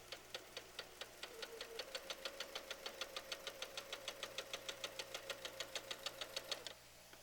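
A sewing machine stitching continuously in one steady run, a rapid even train of mechanical clicks for about seven seconds that then stops abruptly, close and quiet, no talking.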